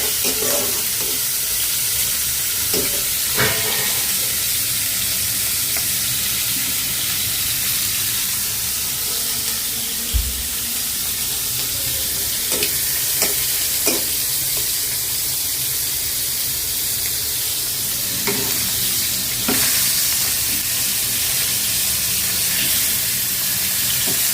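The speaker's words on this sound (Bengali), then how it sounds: "এই চুলায় পেঁয়াজটা ভাজা হচ্ছে আর ওই চুলা মাছটা ভাজছি ভেজে নিচ্ছি" Onion sizzles in oil on one stove while tilapia fries on another, a steady close hiss with occasional louder spits and clinks of stirring running throughout.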